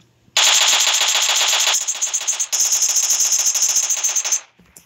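Automatic rifle fire in the mobile game PUBG Mobile rattles out in a loud, fast continuous stream for about four seconds with a brief dip midway, then cuts to silence.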